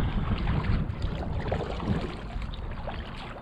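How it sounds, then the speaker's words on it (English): Wind buffets the microphone in a steady, loud, low rumble while a kayak is paddled on a pond, and faint water sounds stir underneath. "Wind is a little more than I expected. It's not rough or anything, but the wind's just pushing me."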